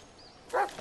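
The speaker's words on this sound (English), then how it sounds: "Oh, damn dog, man." In the Blair Witch video game, played in VR, a dog gives one short, sharp bark that stands out against a quiet, hissy background.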